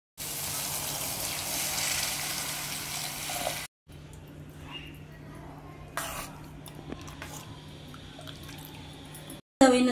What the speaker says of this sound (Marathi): आता आपण त्यात पाणी ओतूया।